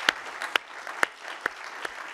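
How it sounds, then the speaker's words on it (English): Applause after a keynote talk at an economics conference: a soft wash of audience clapping with a few loud, sharp claps close by at roughly half-second intervals. "Round of applause, please."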